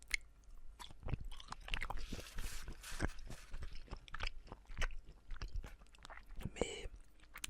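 Close, intimate chewing of raw ham on very good bread, with soft wet bites and crunches repeating irregularly at near range and occasional faint breaths between mouthfuls.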